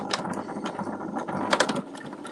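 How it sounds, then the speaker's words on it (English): A sewing machine runs in short bursts, its needle clattering rapidly with mechanical whirring, close up and moderately loud. "Just finish off going backwards and forwards on my sewing machine."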